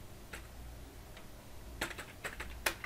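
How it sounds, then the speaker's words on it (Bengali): A computer keyboard is typed on sparsely as a business name is entered, giving a handful of faint, separate key clicks spread across a quiet room with no talking. "আমি এখানে লিখব বিজনেস নেম"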